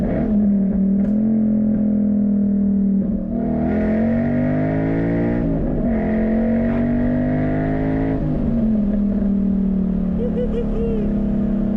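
2012 Ford Mustang Boss 302 with Kooks sidepipes and NASCAR-style boomtubes, exhaust roaring loud and close as the engine revs rise and fall through downshifts, with a few crackling pops near the end.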